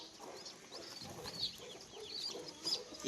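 A native country hen clucks softly near her chicks, with several short clucks and a few sharper high calls over a quiet background.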